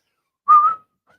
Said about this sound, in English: She comes to the whistle.